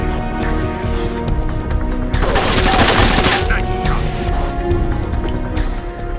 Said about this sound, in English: Fire off a machine gun and the recoil knocks you all over the place